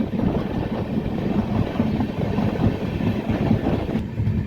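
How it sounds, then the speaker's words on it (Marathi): The 11045 Dikshabhoomi Express runs at high speed between Pandharpur and Parbhani, a loud steady rumble with rhythmic clickety-clack of wheels over rail joints, heard from inside the train with no talk. "काय जबरदस्त एकदम तुफानी स्पीड मधून मित्रांनो आपली ट्रेन सध्या पळत आहे."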